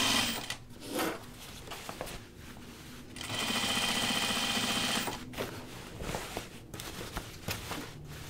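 Sewing machine stitching through denim for a pair of jeans, running in short bursts and then one steady, loud run of several seconds, with brief pauses and faint handling noise between stretches.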